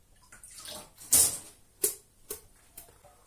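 Phoenix Pisa Tower shaving brush dipped into a little water, giving a few short splashy swishes and drips, spaced out and close, with no talking.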